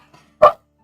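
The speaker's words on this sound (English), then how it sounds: "Dog in the back." A single short bark from a dog somewhere in the background, clear and brief, with only a faint small sound just before it.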